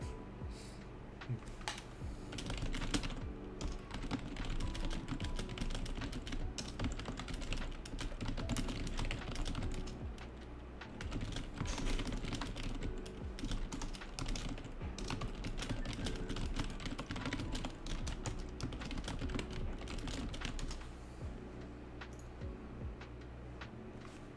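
Continuous typing on a computer keyboard during an online beginners' Japanese lesson, rapid close key clicks in uneven bursts throughout with no talk.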